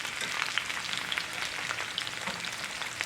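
Potatoes and onions sizzle in a pan on high heat, a steady, close, crackling fry with small pops scattered throughout and no talking.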